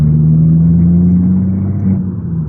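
An Abarth hatchback's engine drones loudly and steadily from inside the car as it powers through a corner in third gear after braking, with the tone dipping briefly near the end; no one speaks.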